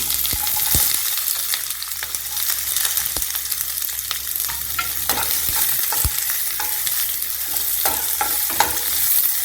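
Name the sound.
onions frying in oil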